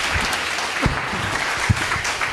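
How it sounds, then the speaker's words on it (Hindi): A church congregation gathered for a pastor's sermon claps loudly in a short, steady burst of applause, with a few faint voices and thumps mixed in. "अगर जितने तैयार हैं एक बार जोर से ताली बजा दीजिए।"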